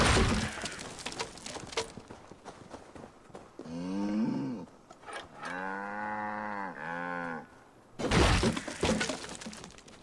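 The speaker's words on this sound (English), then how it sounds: "I'm gonna just free this cow." A cow in Assassin's Creed Valhalla lets out several drawn-out moos in the middle, between loud bursts of crashing, breaking game noise at the start and end.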